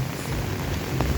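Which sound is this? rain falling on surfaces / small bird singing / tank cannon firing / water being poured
rain falling on surfaces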